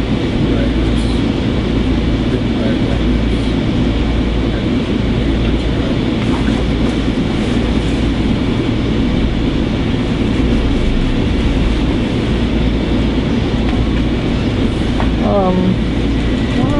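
A Metro-North Harlem Line commuter train runs steadily on rails, heard from inside as a continuous loud rumble with rhythmic low thumping and faint rattles throughout.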